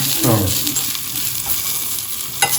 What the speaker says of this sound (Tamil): இந்த எண்ணெயை விட்டு வதக்கின்றேன்.